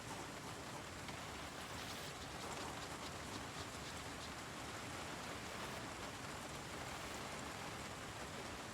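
Steady rain falls in the video game Project Zomboid, a continuous soft hiss of drops on the ground, even and unbroken, faint and close, with no talking.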